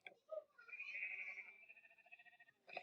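A single drawn-out sheep bleat from the Minecraft video game near a sheep farm, quiet and wavering for about two seconds, with short sounds just before and after it.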